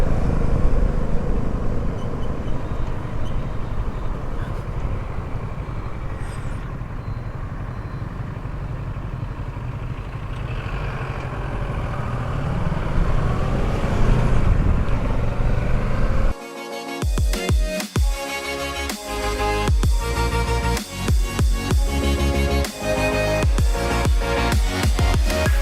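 A Kawasaki Versys 650 motorcycle is ridden with a loud, steady engine drone and wind rush for about sixteen seconds. After that the sound changes abruptly to a busier, clattering texture that stays loud.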